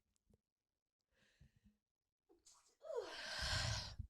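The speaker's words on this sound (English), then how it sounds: "I'm going to sneeze again" A single sneeze bursts out loudly near the end, preceded by faint sharp inhales and breathy build-up in an otherwise quiet room.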